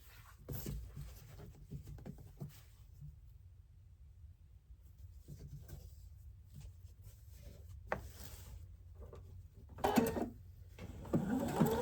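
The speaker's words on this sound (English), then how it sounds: "I'm going to sew the other side" A sewing machine stitches a quilt block in quiet, intermittent bursts of fast mechanical whirring, near and fairly soft, with brief pauses and some handling rustle between runs.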